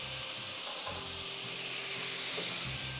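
Chicken breast fillet cooking in a pan with ginger and garlic, a steady dense sizzle with occasional stirring scrapes and no voices.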